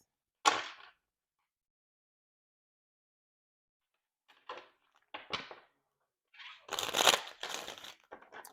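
Tarot cards are shuffled in a quiet room, with one quick riffle, a pause, then several soft papery shuffling bursts, close and alone with no talking.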